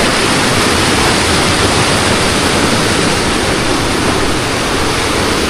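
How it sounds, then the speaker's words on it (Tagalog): A stream swollen after heavy rain rushes past in a loud, continuous roar of churning water, close and unbroken. "Lumakas yung tubig dito sa Sapa."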